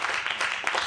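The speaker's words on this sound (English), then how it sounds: "Let's give the Lord a good clap, praise." Church congregation clapping in praise, a brief burst of many hands clapping together at moderate volume, close and slightly uneven.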